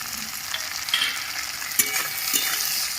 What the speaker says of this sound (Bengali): আলুগুলো হালকা লাল করে ভাজা হয়ে গেছে কেটে রাখা একটা টমেটো দিয়ে দিচ্ছি